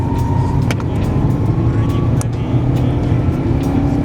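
A car engine revs up to about 4000 rpm in an acceleration test, a loud, close, steady drone with a few faint clicks.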